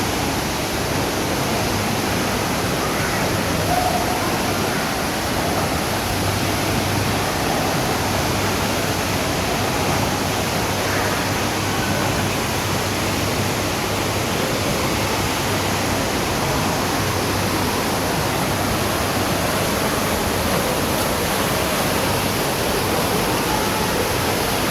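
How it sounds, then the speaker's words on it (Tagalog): Rushing water with waves at a river spot that resembles the sea, a steady loud broadband roar of churning flow with no pauses, close and continuous throughout without voices. "Ayan, may mga paalon-alon sila dito."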